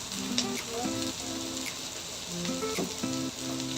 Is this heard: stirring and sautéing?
yes